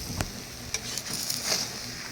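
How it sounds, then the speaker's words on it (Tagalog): Vegetables and noodles for pancit habhab stirred and tossed in a hot pan, soft scraping strokes and clinks over a steady close sizzle. "Haluin lang po natin para magpantay po yung luto ng gulay."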